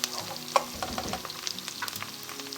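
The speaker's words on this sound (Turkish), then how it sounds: "hemen havuçları ekliyorum ve karıştırıyorum. Havuçlarla da çok güzel bir şekilde kavuruyorum." Chopped carrots and onions sizzle in a pan while being stirred with scraping clicks, close and steady, with no talk.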